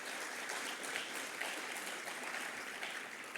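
Graduates at the IIIT-Delhi convocation applaud, a steady wash of many clapping hands in a large hall, even and fairly soft throughout with no one speaking over it.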